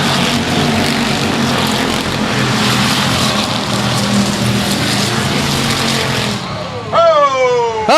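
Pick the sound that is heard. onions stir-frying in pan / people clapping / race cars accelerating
race cars accelerating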